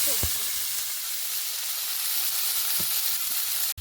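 An egg frying in a pan gives a steady, close sizzle throughout, with a few soft taps of a utensil and no talking.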